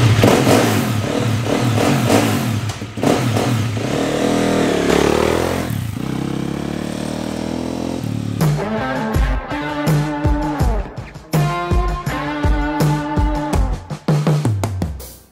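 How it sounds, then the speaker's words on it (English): Dirt bike engine out on a ride, revving hard and roaring close by, then settling into a rougher, pulsing run with repeated throttle blips and clattering mechanical noise. "I hadn't ridden my dirt bike in months, so when my buddy Luke called me to come ride, I was pretty excited."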